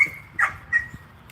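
A dog gives a few short, high barks and whines in quick bursts, moderately close, over a low steady background rumble with no talk.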